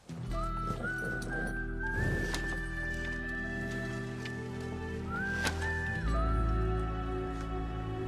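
A horse's hooves clip-clop in an open rural setting in a film scene, a few irregular knocks set against a steady musical background, fairly close.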